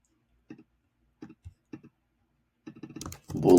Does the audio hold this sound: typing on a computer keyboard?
yes